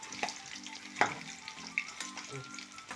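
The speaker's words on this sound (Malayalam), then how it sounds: "ഒരു സൈഡ് മൂത്ത് വന്നിട്ടുണ്ട് നമുക്കതിനെ തിരിച്ചിടാം" Drumstick-leaf vada fries in hot oil and gets turned over, a constant close sizzle with a few utensil taps and clinks against the pan, no talking.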